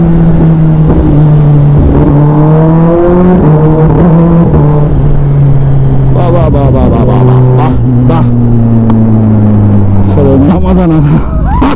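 A Kawasaki Z900 motorcycle revs loud and close, its engine pitch climbing and dropping through gear changes with slipper-clutch deceleration, and bursts of wind buffeting near the end.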